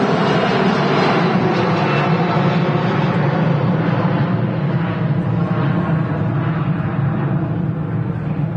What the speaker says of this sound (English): There goes the Jet 275 heading off to Lanzarote this morning.